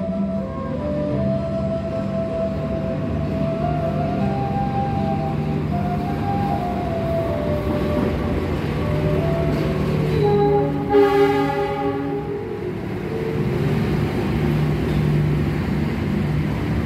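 KA Argo Sindoro passenger train running at Semarang, a steady rumbling roll with tonal hum and wheel-rail screech, and a brief brighter squeal or horn-like tone near the middle; loud, continuous, with no talk.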